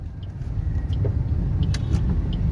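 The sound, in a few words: car pulling away in first gear and turning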